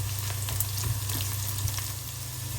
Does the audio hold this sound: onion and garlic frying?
yes